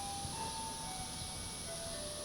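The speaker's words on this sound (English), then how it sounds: "It's the Christian ice cream truck." An ice cream truck plays a hymn as a steady, faint, distant tinkling melody, blurred by constant background noise with no voices.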